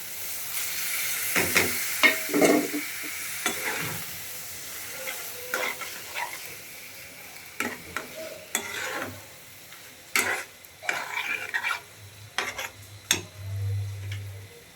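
Katla fish belly pieces hitting a pan of frying spice paste, giving a close sizzle broken by repeated sharp spatula clacks and stirring scrapes in an irregular rhythm.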